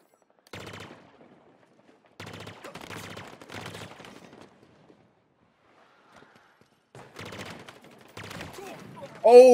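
Burst-fire gunfire from the video game Halo Infinite rattles out in several short volleys separated by quiet gaps, followed by a sharp closing impact.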